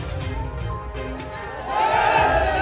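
A crowd at a political rally cheers and applauds, a swell of shouting and clapping that grows louder toward the end.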